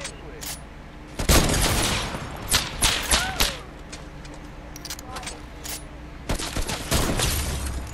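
Hunting rifle shots ring out in Fortnite, a few sharp separate cracks spread across the moment, with players talking over the game sounds.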